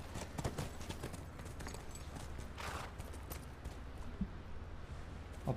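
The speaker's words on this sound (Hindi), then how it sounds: "लो जी आ गए घोड़े हमारे।" Horse hooves in The Last of Us video game, a steady clip-clop of several horses approaching over a constant low background rumble, moderately faint and without talk.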